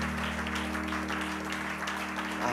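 A church congregation claps steadily and continuously at moderate volume, a dense wash of applause over a low electrical hum, with no voices standing out.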